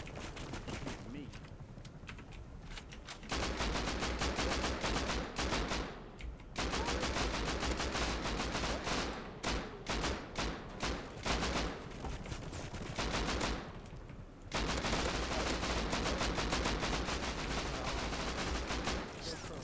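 Sustained automatic gunfire from a patrol helicopter in the survival video game Rust, long loud bursts of rapid shots separated by brief pauses, with a player's voice talking faintly underneath.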